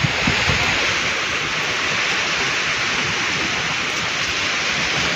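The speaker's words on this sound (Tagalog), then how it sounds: "kitang kita po dito ang ampas ng hangin kabayan na may kasamang ulan na malakas" Heavy rain pours steadily with gusting wind, a dense continuous roar close by, with no voices.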